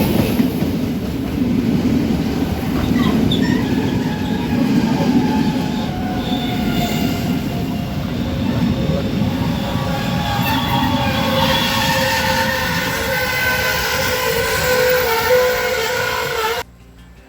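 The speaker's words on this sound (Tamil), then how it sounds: "ரயில் வந்துட்டு இருக்குது" A passenger train pulling into a railway station in Sri Lanka, its steady rumble of wheels on track loud and close, with rising squeals and metallic ringing as it slows, continuing without pause until it cuts off abruptly.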